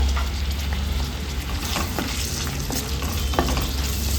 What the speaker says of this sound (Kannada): ಶುಂಠಿ ಒಂದು ಇಂಚು ಒಂದು ಐದು ಗೋಡಂಬಿಯನ್ನು ಸೇರಿಸ್ಕೊಂಡು ಚೆನ್ನಾಗಿ ಫ್ರೈ ಮಾಡಿಕೊಳ್ಳೋಣ